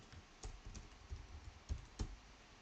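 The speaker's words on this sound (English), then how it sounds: "A microphone in front of my keyboard." Computer keyboard being typed on with a microphone placed in front of it, a sparse run of soft, irregular key clicks, quiet and close, with no voices.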